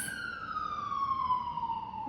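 A wailing siren holds a long, gradually descending tone at moderate volume, with no voices over it.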